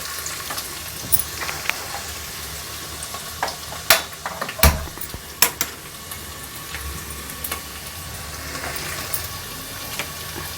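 Onion frying in a pan for pav bhaji, a continuous low sizzle with a few sharp clacks of a utensil stirring against the pan.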